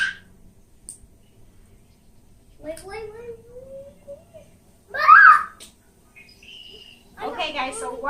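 Recorded bird calls played aloud during a homeschool geography lesson: sparse chirps and rising whistled notes from a speaker in a quiet room, with a voice and adult talk breaking in between.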